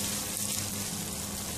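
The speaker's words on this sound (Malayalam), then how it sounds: "അതിലേക്ക് എണ്ണ ചൂടായിട്ടുണ്ട്, അതിലേക്ക് ചിക്കൻ ഷ്രെഡ് ചെയ്ത് ഇട്ട് കൊടുക്കാം" Shredded chicken fries in hot oil, giving a steady, close hiss and sizzle that runs unbroken and alone.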